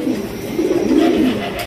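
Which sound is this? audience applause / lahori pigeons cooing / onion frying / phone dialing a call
lahori pigeons cooing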